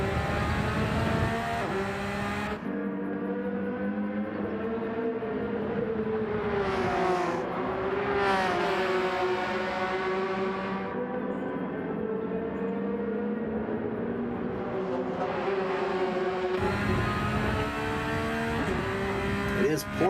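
Porsche race cars in a sim racing game at Monza drone past with rising and falling engine tones that sweep up and down through gear changes, steady and fairly close, with commentary running underneath.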